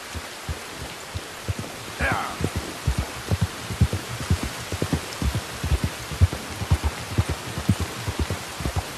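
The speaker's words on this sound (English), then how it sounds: "It's raining pretty good here right now," Sun-shower rain in Red Dead Redemption 2 patters steadily in the background while heavy, irregular thumps of footsteps or hooves pound up close, with a brief chirp early on.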